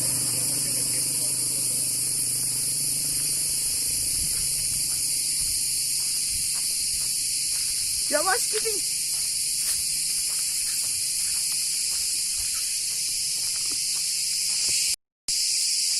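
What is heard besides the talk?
crickets chirping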